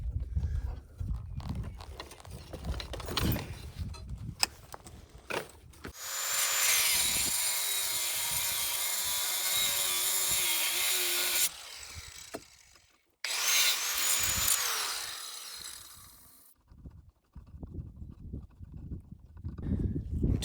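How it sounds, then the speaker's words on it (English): A power saw cuts threaded rod at a house build, with a loud steady whining grind for several seconds, a short pause, then another cut, surrounded by clunks and handling noises. "so you're cutting threaded rod"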